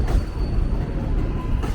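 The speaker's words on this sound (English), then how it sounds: "I'm waiting for an old-fashioned train to come in here" An old-fashioned subway train pulls into an elevated station at River Avenue by Yankee Stadium in the South Bronx, rumbling loudly and steadily, with wheel clatter and faint squeals close by.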